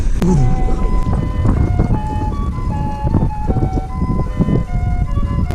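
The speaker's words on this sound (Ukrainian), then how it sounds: "Ай, машина помешала." A car passes close by on a street, its loud engine rumble filling the whole stretch alongside steady tonal whines.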